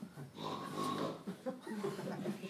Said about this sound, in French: Et même il ronfle. Il ronfle.